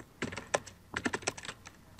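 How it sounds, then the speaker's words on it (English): Rapid, irregular clatter of keys on a computer keyboard during a Wizard101 PvP match, with bursts of clicks separated by short pauses, fairly close and alone without talk. "Whoever's typing."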